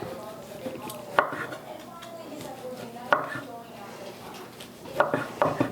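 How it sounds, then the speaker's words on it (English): A knife cuts through roasted pork tenderloin on a board, giving a few sharp, separate knocks spaced a couple of seconds apart against a quiet kitchen background. "And now I'm going to slice the pork tenderloin."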